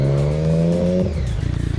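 A loud car engine revs hard close by in a parking lot, a rising steady roar that drops off and breaks into a rough, pulsing idle burble.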